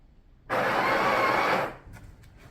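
Breville Barista Express BES870 grinder buzzing through coffee beans in one burst of about a second, loud and close, then quiet.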